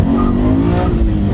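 A supercharged Subaru BRZ accelerates hard in first gear, a loud, close, rising engine drone with steady whine filling the whole short moment.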